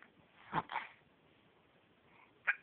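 A couple of tiny, soft sneezes from a three-month-old baby close by, followed by another brief faint sneeze-like burst in an otherwise quiet room.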